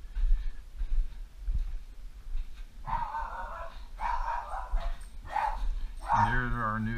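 A dog barks and yips in a short series of bursts, ending in a drawn-out whining bark, over a quiet room background.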